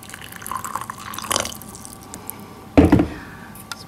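Hot water is poured over red caviar during a quality test. There are two brief, close splashy pours with dripping and trickling between them, quiet and without talk.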